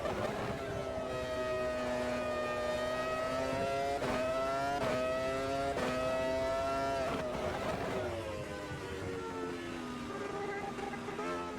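A Formula 1 car in Automobilista 2, racing at Road America, holds a loud, sustained engine whine that climbs and drops in pitch through gear changes, steady and close throughout with no talk.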